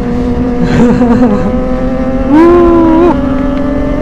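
A Kawasaki ZX25R motorcycle with a loud aftermarket exhaust roars past with a loud, raspy note, revving up and down, then holding a high droning pitch before easing off.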